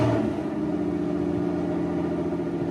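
An Aston Martin fitted with a swapped V12 engine runs with a steady, even rumble at moderate volume, heard alone without talk.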